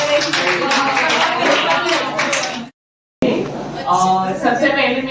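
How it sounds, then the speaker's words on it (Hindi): A school audience claps to close a Hindi Diwas competition, steady applause mixed with chatter, cut by a brief dropout of silence before the clapping and voices resume. "तो आइए हम सब तालियां बजाकर इस प्रतियोगिता की समाप्ति करें।"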